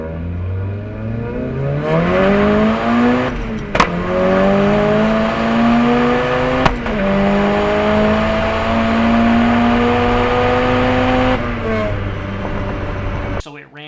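Mazda Miata drag racing launch with the car popping out of gear: a loud, close engine wails and climbs through rising revs over about fourteen seconds, with brief sharp breaks in the tone along the way.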